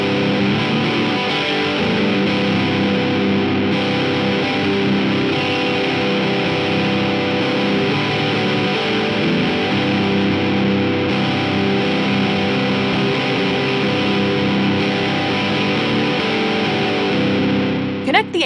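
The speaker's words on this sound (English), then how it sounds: "Step back in tonal time with the UAFX Anti 1992 high-gain amp" An electric guitar plays through a UAFX Anti 1992 high-gain amp pedal for 90s metal tones. Thick, sustained distortion rings loud and steady for about eighteen seconds, with a voice seemingly talking over it.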